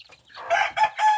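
Native chickens on a small farm clucking, with a rooster crowing in three loud, close bursts that rise and swell one after another.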